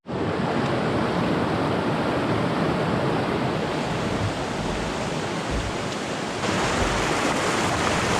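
Wilderness river water rushes over rocks in a loud, steady roar close by, a dense unbroken wash of noise from a canoe with no talking.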